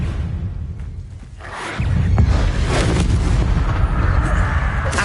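A spell effect from Hogwarts Legacy erupts into a sustained, booming whoosh of magic that swells and rumbles loudly for several seconds.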